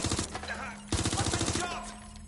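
Rapid bursts of automatic gunfire in the video game Watch Dogs Legion, two dense volleys of sharp cracks separated by a brief pause, close and loud.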